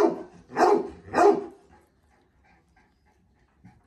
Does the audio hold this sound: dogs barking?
yes